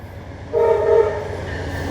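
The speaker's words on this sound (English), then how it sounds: "Amtrak." A loud blast of an Amtrak train horn sounds briefly, followed by a sustained rumble of the passing train, heard from beside the tracks.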